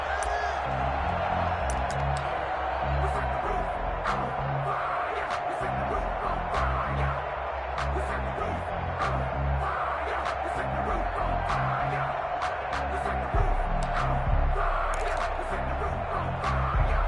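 A football stadium crowd before a Los Angeles Chargers versus Chicago Bears game keeps up a steady roar of cheering and whoops, broad and distant, with scattered sharp shouts throughout.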